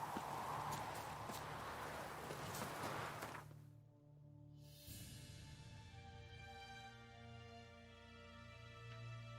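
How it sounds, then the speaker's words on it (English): Horse hooves clip-clop steadily in The Witcher 3, a continuous mid-distance walking rhythm with a brief dip partway through, heard alone without talk. "How do I get off this damn horse?"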